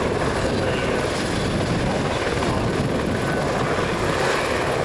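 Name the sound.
helicopters flying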